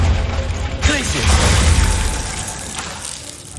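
A Glacius ice spell cast in Hogwarts Legacy bursts with a bright crackling shatter over a rumbling low bed, with a swirl of magical whoosh; spell-combat sounds continue around it, and a voice speaks during the clip.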